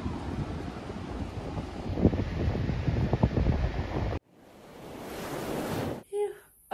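Ocean waves wash into a tide pool at Cylinder Beach on Stradbroke Island, a steady broad surf roar with wind buffeting the microphone, then the rush drops away abruptly and returns more softly.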